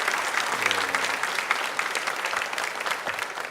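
A church congregation applauds the choir at a New Year's morning service, with steady clapping from many hands filling the room for several seconds, under a bit of murmuring.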